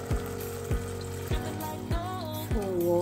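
Water is poured into a cooking pot for Filipino sinigang, a steady splashing rush with hissing sizzle and a few rhythmic thuds over about three seconds, close and fairly loud.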